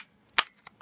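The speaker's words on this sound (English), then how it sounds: "And the handle just slides back forward." Short sharp mechanical clack of the handle on a CO2 pellet gun sliding forward, with a few faint clicks around it, close and alone.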